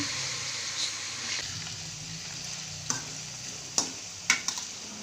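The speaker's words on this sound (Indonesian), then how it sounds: "masukkan kentang yang sudah dipotong-potong kecil ke dalam minyak goreng yang sudah panas." Small chopped potato pieces fry in hot cooking oil with a steady, soft sizzle, while occasional light clinks and scrapes of stirring sound faintly over it.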